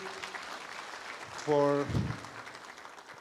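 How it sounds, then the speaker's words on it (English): Applause from the audience at the launch event of the Kenya Apple Growers and Exporters Association rises under a speaker's voice, with a short tonal swell in the middle, all fairly faint and distant. "I would request everybody to give a big round of applause"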